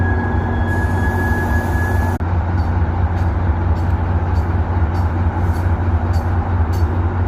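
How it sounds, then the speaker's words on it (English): A MARC commuter train at a station in the USA rumbles loudly and steadily nearby, with a brief tone early on and rhythmic clacks of wheels over rail joints. "we'll use this train to go to MARC"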